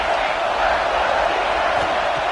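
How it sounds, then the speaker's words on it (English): A dense stadium crowd roars on third down in a football video game, a loud, steady wall of cheering and noise that holds for a couple of seconds without letting up. "3rd down, and the crowd really getting into it"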